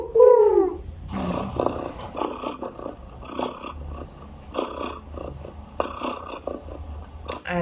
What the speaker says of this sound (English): Pigeon. Oh yes, pigeons.